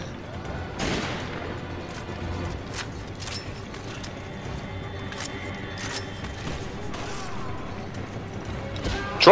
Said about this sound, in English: just pull out the goddamn flak cannon